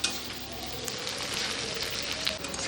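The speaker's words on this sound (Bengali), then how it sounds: "পেঁয়াজটা একটু নেড়ে চেড়ে নিই যতক্ষণ না ব্রাউন হয়ে যাচ্ছে" Onions being stirred and fried in a pan until brown for a home chicken curry, with a steady broadband sizzle running throughout and faint background noise.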